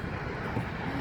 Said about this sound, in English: It's taking off.